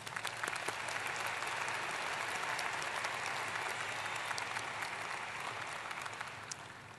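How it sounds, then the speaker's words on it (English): Sustained audience applause fills a university commencement ceremony hall, dense steady clapping from a large crowd that swells and then slowly tapers off. "Let's give them a round of applause."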